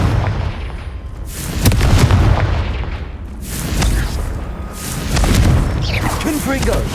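Confringo fire spells in the Hogwarts Legacy video game burst repeatedly, loud booming blasts with crackling tails over a rumbling game soundscape, with voices faintly in the mix.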